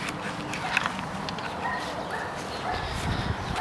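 A dog in a neighbor's yard outdoors gives a few soft yips and whimpering barks, faint and distant against a broad hiss of outdoor background noise.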